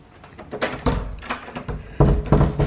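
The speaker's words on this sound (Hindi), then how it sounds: "अरे दरवाजा लॉक कर दिया." A locked door is tried, its handle rattling and the door thumping against the frame in several quick, loud, close knocks and clunks.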